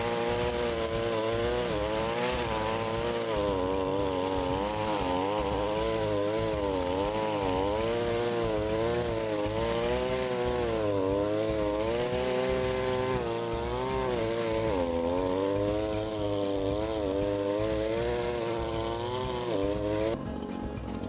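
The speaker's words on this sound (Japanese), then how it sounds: "本日強力の 26cc のスタンダードな草刈り機で草を刈ります" A small 26cc gasoline brush cutter with nylon cord runs continuously at high revs cutting grass, its pitch wavering up and down as it works, loud and close with no speech.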